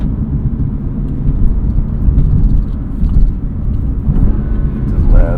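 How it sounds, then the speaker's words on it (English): BMW M2 CS engine on a track lap, a steady throaty drone with continuous rumble and slight swells in load, heard from inside the car under faint wind and road noise. "I like the sound this engine makes too. It's a little more throaty than mine,"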